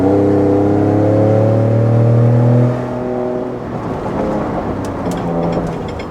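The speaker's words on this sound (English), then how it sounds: "Valve closed, and I'm going to do a pull." A 2021 Ford F150 Raptor with a flash tune accelerates hard with its exhaust valve closed, a loud, deep rising engine drone that drops off after a few seconds into road and wind noise.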